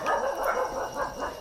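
Several dogs bark and yip across a village, overlapping calls in a steady chorus at moderate distance, with no talk.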